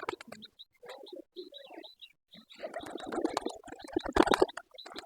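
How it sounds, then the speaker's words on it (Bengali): A Giribaz pigeon, a nesting bird sitting on eggs, gives repeated soft, throaty coos in short bursts close by, with scattered fluttering and rustling growing busier toward the end. "এই কবুতরটা গিরিবাস"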